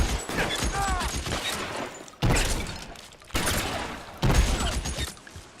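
Bursts of gunfire in the L.A. Noire video game, several sharp loud volleys at intervals, each onset followed by a sustained rattle and ringing decay, with shouting voices in the mix.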